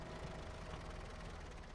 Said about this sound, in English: So, engine off.